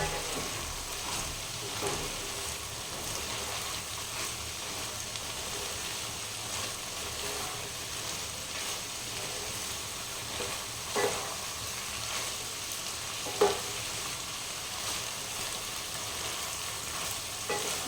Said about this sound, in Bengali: আর কিছু মশলা পড়বে এটা এইভাবে ভালোভাবে কষতে হবে